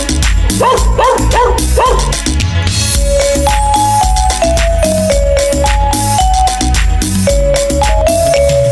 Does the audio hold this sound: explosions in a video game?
no